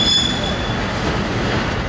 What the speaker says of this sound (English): I never seen a train like this.